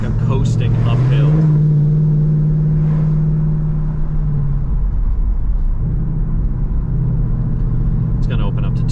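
A Ford Mustang GT coasts uphill on a winding North Georgia mountain road. Its engine holds a low, loud drone that swells briefly early on and then settles into a steady hum inside the cabin.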